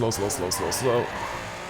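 A car drifts through a corner in Need for Speed Payback, its engine note rising and falling as the tires squeal through a short oversteer slide, with someone talking over it.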